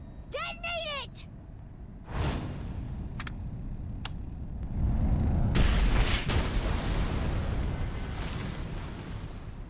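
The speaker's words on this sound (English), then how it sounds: "Shoma! Now! Detonate it!" A detonation in the video game AI: The Somnium Files, heard as a deep booming blast with a long rumbling roar that swells and holds after a brief voiced cry and a few sharp cracks.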